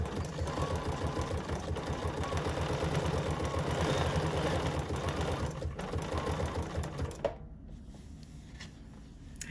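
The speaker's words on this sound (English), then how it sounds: "I'm not going to heavily zigzag the edges of these leaves" A sewing machine runs a zigzag stitch along the edges of fabric leaves, a rapid mechanical chattering that is fairly quiet and steady for about seven seconds, then stops abruptly, leaving low room noise.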